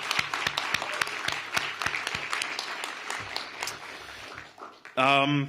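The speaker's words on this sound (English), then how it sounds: "I really would like to give him a round of applause for bringing us here" An audience at a Washington, D.C. celebration of new housing and a renovated African American Civil War museum breaks into applause, a burst of sharp claps that gradually thins, followed by a voice speaking at the end.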